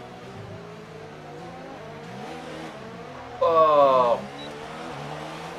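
An F1 car in the video game F1 2019 on the Baku circuit, its engine climbing and dropping through gears in a steady whine, with a short loud high-pitched burst partway through and a brief exclamation from a voice.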